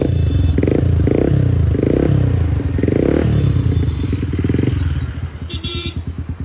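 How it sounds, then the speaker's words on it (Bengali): A Yamaha R15 motorcycle with a seized engine and a loose exhaust revs loudly up close in several sharp pulsing bursts, then settles into a rough, clattering idle. "ভাই এক্সজস্টের সাউন্ডটা শুনে নাও"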